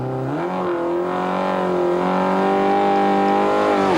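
A Mitsubishi Lancer Evolution rally car pulls away from the start line of a stage, its engine loud and near, revving hard and climbing steadily in pitch under continuous acceleration.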